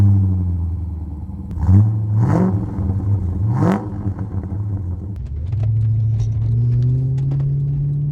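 A Holden VT GTS with a 5.7 litre stroked V8 rumbles at idle, blips its throttle in three sharp revs that rise and fall, then settles into a deep, steady idle burble close by.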